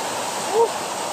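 Callejon Falls in Malvar, Batangas pours steadily from a spring-fed grotto, a continuous broadband rush of water with a brief faint tonal sound over it.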